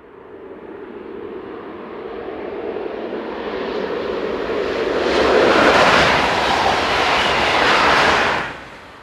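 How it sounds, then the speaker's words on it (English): A TGV Duplex high-speed train approaches and roars past close by, its rushing noise swelling to a loud peak before cutting off abruptly at the end. "Approaching the camera on the 25th of June 2013 is TGV duplex set number 280."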